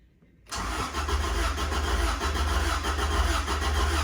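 An old Subaru Legacy petrol engine is cranked over by the starter, breaking a moment of quiet with a sudden loud, rapid rhythmic churning that continues steadily up close without catching into a clean idle.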